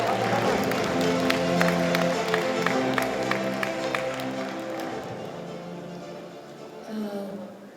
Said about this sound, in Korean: 큰 박수로 다시 한번 환영해 주시기 바랍니다